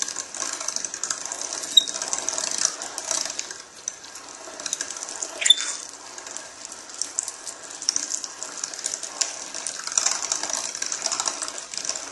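Wet, squishy grinding and mechanical squeaks from a hand-cranked meat grinder grinding venison, continuous and close, with occasional metallic clicks and no talking.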